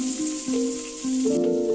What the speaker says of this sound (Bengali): ক্যাপসিকাম কুচিগুলো খুব বেশি সময় নিয়ে ভাজবো না